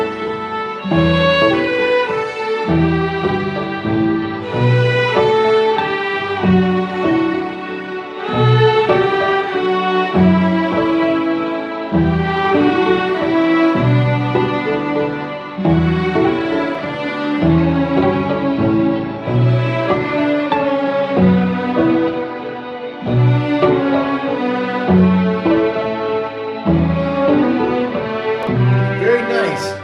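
A violin plays a continuous run of notes, some slurred and others bowed separately, steady and close, with no talking.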